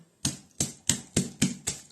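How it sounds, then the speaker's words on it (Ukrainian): Six evenly spaced dull thuds of a meat mallet pounding chicken liver in a plastic bag, close and sharp, with brief pauses between blows and no talking. "Треба відбити її ось таким молоточком."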